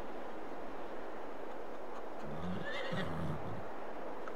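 A horse in Farming Simulator 22 gives a single whinny partway through, over a quiet steady background with faint hoof clops.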